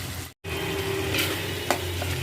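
Masala of chilli and cumin powder being stir-fried in a pan for a village-style Bengali dish, a steady sizzle with scraping stirs and a few sharp spoon knocks on the pan, close and continuous.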